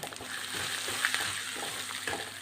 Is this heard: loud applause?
no